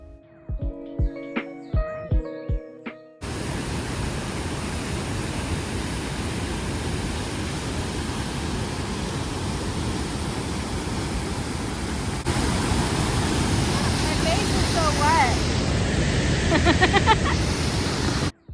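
A waterfall at Dead River Falls in Marquette pours with a loud, steady broadband roar that runs unbroken for most of the stretch, swelling slightly near the end, after a few seconds of music at the start.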